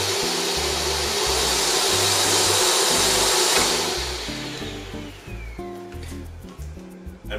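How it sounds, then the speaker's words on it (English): An Electrolux ErgoSpace vacuum cleaner motor roars steadily, then its pitch and loudness drop as it slows to a lower speed, with soft music playing underneath. "The vacuum has variable speed."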